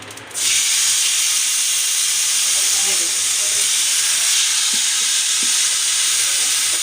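Chicken leg pieces sizzle steadily in ghee on a hot tawa, a continuous close frying hiss that starts abruptly and holds at an even level, with faint clinks in the background.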